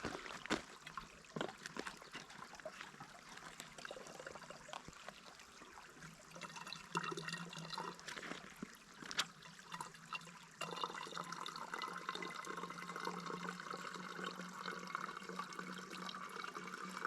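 Continuous rushing, gurgling water flows steadily through a screw-on water filter for several seconds, close by and moderately quiet, with small drips and trickles mixed in; no one speaks.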